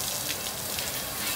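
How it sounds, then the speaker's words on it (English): Running water rinsing out a pig smoker, a dense continuous hiss and splatter close by, steady throughout, with no voices. "I'm just cleaning it out, running water now"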